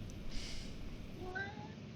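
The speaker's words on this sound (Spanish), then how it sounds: "mi gato en cualquier momento va a aparecer" A domestic cat meows briefly amid a low steady room hum, a short high call rising partway through against a faint background.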